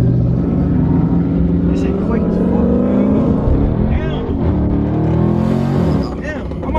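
A Redeye Hellcat weaving through highway traffic, its engine roaring loud and close as it accelerates, with a rising growl and heavy road and wind rumble. Voices talk over the sound.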